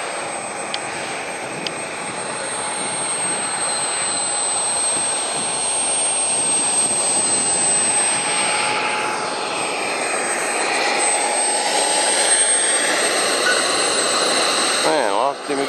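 Jet engine of a model aircraft flying loops at a jet rally, a steady sustained roar rising and falling slightly as it circles, fairly loud and continuous with faint voices now and then.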